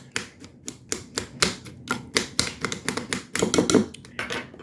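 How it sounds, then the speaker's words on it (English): A knife chops fruit on a cutting board for meal prep, giving a quick, uneven run of close, sharp knocks. "I'm just going to chop them up this way"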